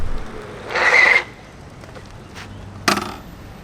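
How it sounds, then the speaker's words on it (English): A SUPER73 RX electric bike tire skids briefly on pavement, a short rough scrape lasting about half a second, followed moments later by a sharp knock, all over a quiet outdoor background. "I know that was kind of a weak skid"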